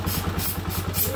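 A motorcycle engine idles nearby with a steady, throbbing mid-pitched rumble and a regular pulsing beat.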